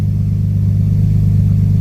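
A loud, close Nissan R32 Skyline with an RB25DE-T engine idles with a deep, steady rumble that wavers slightly in pitch and strength, from a fluctuating idle fault.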